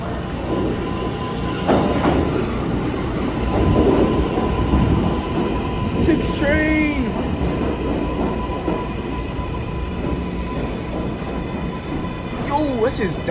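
An R142A subway train on New York's IRT Lexington Avenue line rumbles past steadily and close, with brief wheel squeals and chimes over the roar while people talk nearby.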